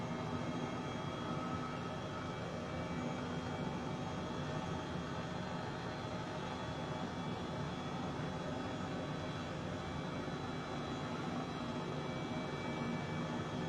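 Turbine engine of an H135 helicopter in Microsoft Flight Simulator, a constant steady whine and rotor drone with no change in level throughout and no voices.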